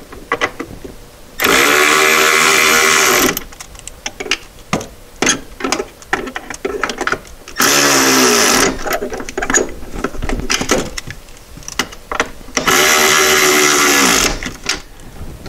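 A power tool bolts in the pedal assembly of a Porsche 912, whirring in three sustained bursts of a couple of seconds each, close and loud, with softer clanks and handling noise between them.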